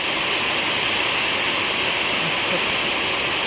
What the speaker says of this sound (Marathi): मस्त पाऊस पडतोय होय आणि आमच्या ओढ्याला पाणी आलं ते बघा